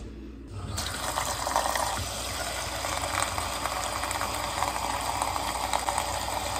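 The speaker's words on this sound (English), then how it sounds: "I'm gonna add just a little bit of water to get this portion going" Water pours steadily into a large pot of apples, a continuous broad splashing stream that starts abruptly after a brief quiet moment and runs close and fairly loud, with no talking.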